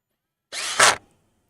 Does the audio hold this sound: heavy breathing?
no